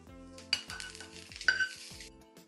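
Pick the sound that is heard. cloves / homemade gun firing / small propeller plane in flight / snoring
cloves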